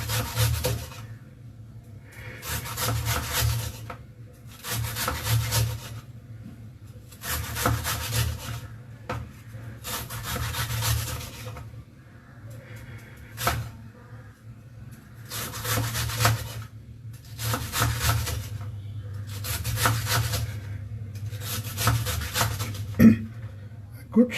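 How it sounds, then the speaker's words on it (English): Repeated rasping strokes of a knife sawing back and forth through fibrous banana stem, in rhythmic bursts with short pauses between. "So you have to use a sawing motion, because you are cutting through the fibers."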